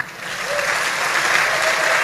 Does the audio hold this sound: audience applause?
yes